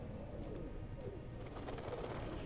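Pigeons or doves cooing in the ambient soundscape of Amnesia: The Dark Descent, soft repeated coos over a steady low background hum, fairly faint and distant.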